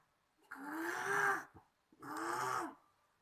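A storyteller's voice imitates a lion growling, giving two long, rasping, throaty growls with a short breath between them, close but fairly quiet, with no other talk.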